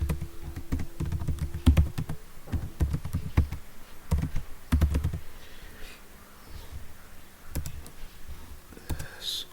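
Keystrokes on a computer keyboard clatter in irregular bursts of sharp, close clicks with short pauses between runs, while a faint background hum sits underneath.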